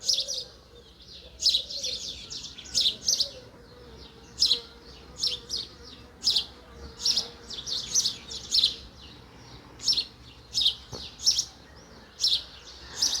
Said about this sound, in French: Oh, les oiseaux sont vraiment en feu ce matin.